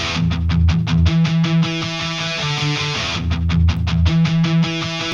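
A bright, repeating plucked electric guitar pattern from a sample plugin plays alone for synth-metal game music, steady rhythmic strums in a looping phrase with sustained chords underneath.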